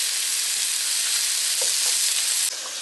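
Chopped food fries steadily in a pan, giving a continuous loud sizzle throughout with no talking.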